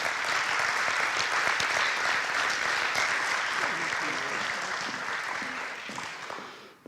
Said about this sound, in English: Please help me give him a round of applause.